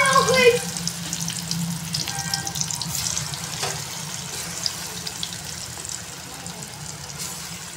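Food frying in a pan crackles steadily up close, louder at the start then settling into a softer, even sizzle, with a faint voice briefly in the background.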